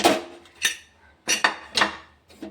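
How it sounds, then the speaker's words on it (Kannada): Metal pots and utensils clanking as a pressure cooker is opened after cooking fenugreek greens and dal, a handful of sharp separate clinks and knocks spread over a couple of seconds, fairly close, with no talk. "ಈಗ ಕುಕ್ಕರ್ ಓಪನ್ ಮಾಡ್ತೀನಿ ರೀ"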